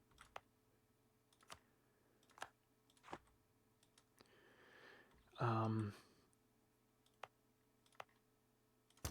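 Sparse computer keyboard keystrokes click one at a time at an unhurried pace during a strategy game session, close and crisp, with a brief louder voiced sound partway through.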